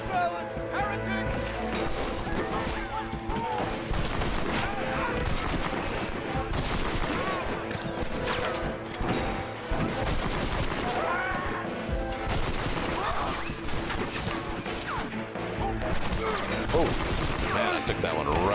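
Sustained gunfire fills a Red Dead Redemption shootout, with rapid overlapping shots cracking continuously throughout and voices talking over the battle.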